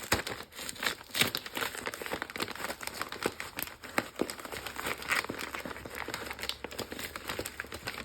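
A well-taped package is torn and ripped open by hand, with close, faint crinkling and crackling of tape and wrapping in irregular bursts throughout.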